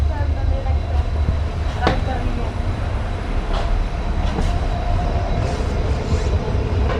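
The Hazur Sahib Nanded to Sri Ganganagar Express rolls past at an Indian railway station with a continuous rumbling roar and a few sharp rail clanks, loud and close throughout.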